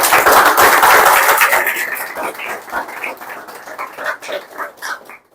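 An audience claps loudly and steadily for students who passed the CGSET 2024 exam. The dense applause thins into scattered, uneven claps that fade toward the end.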